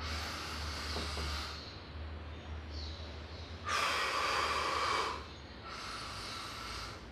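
Controlled breaths during a Systema martial arts breathing drill, each inhale and exhale paced to an equal count: three breathy, hissing phases close to the mic, the middle one loudest, with quieter airy breaths between.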